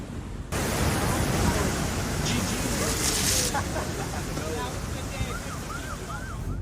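Giant ocean waves crash repeatedly against the shore along a coastline, a loud, continuous roar of surf with broad wash and wind noise throughout, swelling slightly in the middle.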